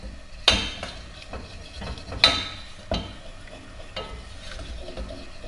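Flour is stirred into hot oil in a pan for béchamel, with a faint sizzle, soft scraping and a few louder clacks of a utensil against the pan.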